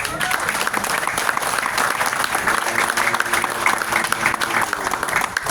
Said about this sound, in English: Please give a round of applause to Tenzing Eason, a stalwart council person in the city.